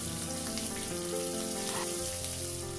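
Chopped and sliced onions with a little salt fry in a pan for a masala dosa filling, a steady, close sizzle with a few shifting tones and no speech.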